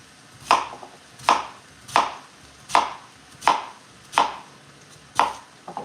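A knife dices vegetables such as butternut squash, rutabaga or sweet potato on a cutting board, seven evenly spaced chops landing about once every three quarters of a second. Each chop is crisp and close, with no talking between them.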